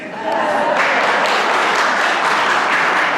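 A hall audience at a 2018 Democratic congressional candidate forum for Michigan's 6th district bursts into loud, steady applause, a dense wash of many hands clapping together that holds for a few seconds.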